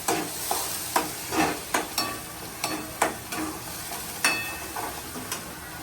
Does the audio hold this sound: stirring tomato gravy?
yes